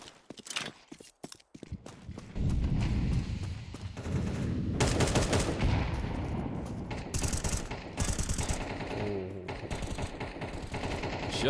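Gunfire in the Counter-Strike video game during a competitive match, rapid shots and bursts crackling in quick succession, fairly loud, mixed with game effects and faint commentary.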